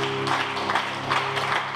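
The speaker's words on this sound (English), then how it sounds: "Clap your hands together" A church congregation clapping their hands together at a morning healing and deliverance service, a steady dense patter of many hands over a low sustained tone, fairly close and filling the room.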